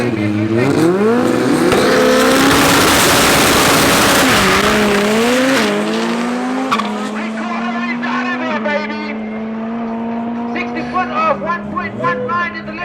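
Drag race cars, Ricardo against Michael Lurik's BMW, at a Tarlton International Raceway club event, with loud engines revving and climbing in pitch through the gears and brief tyre squeal, under an announcer's talk.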